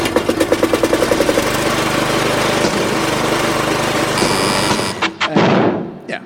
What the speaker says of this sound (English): It is, in fact, Colin arriving in his car this afternoon.